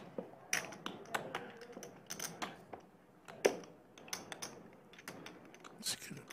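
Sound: poker player shuffling chips

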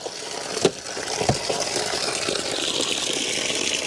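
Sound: water flowing through a gutter filter

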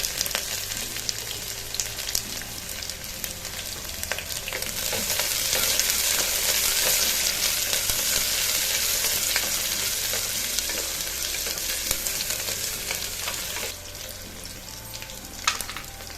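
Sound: onions and green chillies frying in a pan

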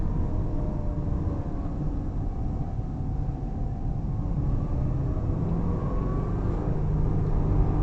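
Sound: Subaru Impreza 2.0 160HP 2007 driving through city at night

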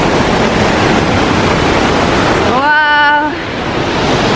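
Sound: Velo de Novia waterfall in Oxapampa

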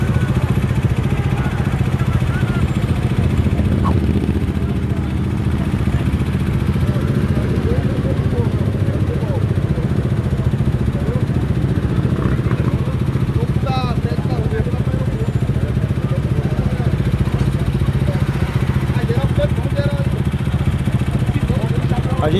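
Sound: motorcycles at a street protest

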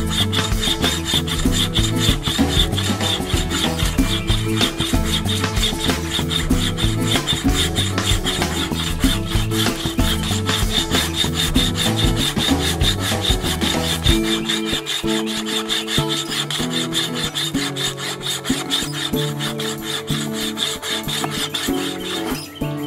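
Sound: sawing wood with a paracord bracelet saw

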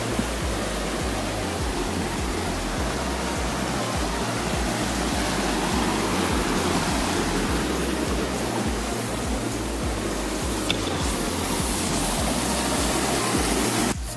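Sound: flowing water like a river on a mountain trail

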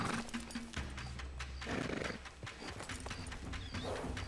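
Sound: mare in video game Red Dead Redemption 2

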